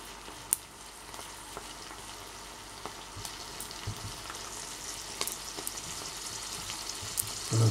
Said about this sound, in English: there's always something very satisfying about the sound of bacon sizzling.